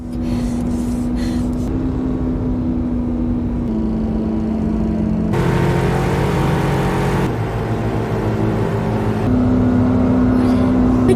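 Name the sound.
car engine revving hard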